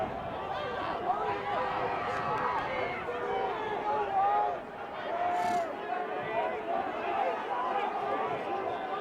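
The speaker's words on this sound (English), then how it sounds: "the Buffaloes bench remains loud downstairs. You can hear them through the crowd mics" The Colorado Buffaloes bench at a college lacrosse game against Colorado State yells and cheers loudly, picked up by crowd microphones as a sustained wash of overlapping voices and shouts in a stadium.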